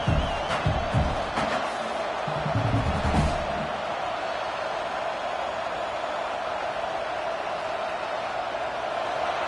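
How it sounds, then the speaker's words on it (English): A football stadium crowd roars loud and sustained, a dense wall of noise that fills the whole clip, with a few sharp bangs and shouts near the start. "This crowd, full throat, spreading the eardrums and letting them know it's going to be a long day"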